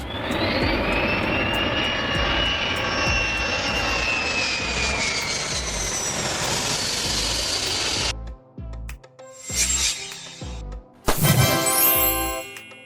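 A firefighting air tanker's loud, steady engine roar passes close for several seconds, then gives way to intermittent rattling and clinking noises.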